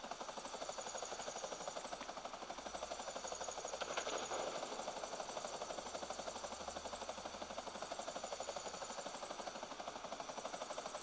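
Helicopter rotors beat in a fast, steady thrum with a continuous engine whine in the GTA video game, loud and unbroken for the whole stretch with no talking.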